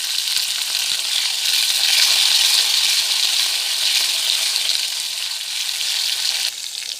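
Onion and garlic cloves sauté in a hot pan for a Tamil vallarai chutney, giving a steady, loud broadband sizzle that holds throughout with faint stirring scrapes underneath and no talking.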